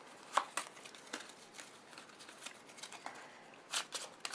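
Four queen playing cards mashed together and mixed by hand, faint scattered rustles and soft snaps, close up and quiet, with short pauses between them.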